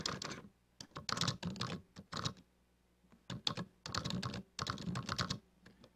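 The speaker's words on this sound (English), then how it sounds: "tap the enter key a few times until that goes away" Keys on a computer keyboard are tapped in quick clattering runs with short pauses, close and clear with no talk, the rapid strikes including repeated presses of the enter key.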